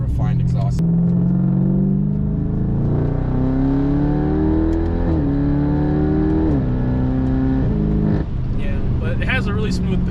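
A BMW F10 550i accelerating hard, its engine and exhaust rising in pitch through several gear changes, loud and close, with a voice talking over it.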